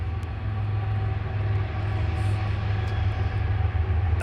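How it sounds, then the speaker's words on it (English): A train rumbles past steadily near Warm Springs, Georgia, a continuous low, heavy roar holding for the whole stretch with no clear horn standing out. "Yep, I hear a train coming."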